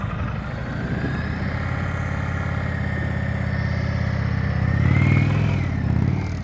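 Motorcycle engine held at low throttle during slow-speed riding practice, a steady close idle-like drone that swells briefly near the end.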